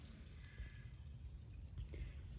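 Water trickles from a small improvised spout of leaves and rocks on a hiking trail, a faint steady pour with light splashes and drips, close but quiet, with no talking.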